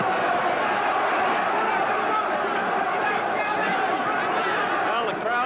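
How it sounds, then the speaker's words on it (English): Boxing crowd at the Muhammad Ali versus Joe Bugner fight, a dense, steady roar of cheering and excited chatter from a large arena audience, loud and continuous throughout. "Well, the crowd has gotten a kick out of it, as you can hear."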